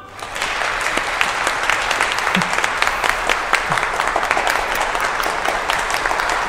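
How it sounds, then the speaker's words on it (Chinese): Loud, sustained audience applause in a hall for the overall champion team of a school competition, dense crisp clapping holding steady throughout with a few brief crowd sounds underneath. "掌声。"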